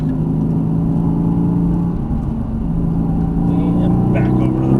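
Mercedes-AMG GT S engine pulling hard under acceleration on a racetrack, a loud, steady mid-pitched drone rising slightly across a few seconds, close and continuous.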